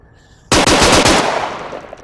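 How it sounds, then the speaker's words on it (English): Machine gun fire in the Onward VR game, a short loud burst of about six rapid shots that starts abruptly and decays into a ringing tail, heard alone. "your machine guns. They're actually one of my favorite weapons in a game. It's just fun to lay down some fire."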